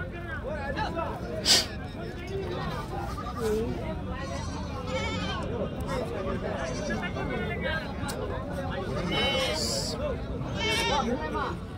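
Goats and kids bleating repeatedly amid a busy village livestock market, with crowd babble and people talking throughout and a louder sharp cry near the start.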